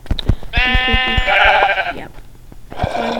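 A sheep in a survival video game bleats twice, a wavering, nasal call followed after a short pause by a second bleat, close and clear over faint background sounds.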